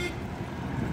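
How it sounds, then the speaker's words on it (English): A car horn, apparently on a Pontiac, sounds in a sustained honk on a town street, loud and steady over low traffic rumble for the whole second. "And you got somebody honking for no reason"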